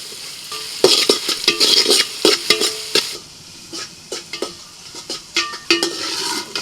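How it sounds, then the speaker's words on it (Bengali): Vegetables fry in a thin pot over a strong flame, with a spoon scraping and stirring in repeated close strokes over a soft background sizzle. "ব্যাস, সবজিগুলো ভাজা হয়ে গেল"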